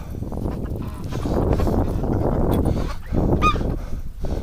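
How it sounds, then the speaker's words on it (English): A flock of ducks honks steadily inside a barn in snowy winter, dense overlapping nasal calls forming a continuous close chorus with a few higher squeaks standing out. "Silly ducks, go inside."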